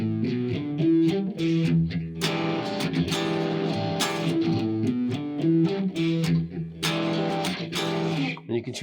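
Distorted electric guitar playing a rhythmic riff built on the Hendrix chord, with punchy strummed chord stabs and short muted gaps, loud and up close with no voices.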